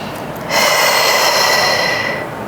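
A single strong breath during a Pilates abdominal exercise, a loud, close airy exhale that swells suddenly, holds for about two seconds and then fades.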